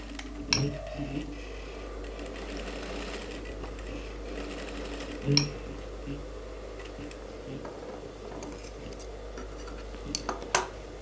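Sewing machine stitching through suit fabric to tack it in place, a steady low mechanical run with a few sharp clicks and knocks from handling at the bench, fairly quiet throughout.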